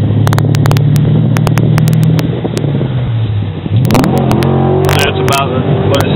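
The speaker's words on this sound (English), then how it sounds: "That's MBRP exhaust with KOOKS Long Tube Headers and KOOKS High-Flow Cats." A 2009 Dodge Challenger R/T six-speed with Kooks long-tube headers, Kooks high-flow cats and MBRP exhaust drones loudly at a steady low pitch, then revs up sharply near the end.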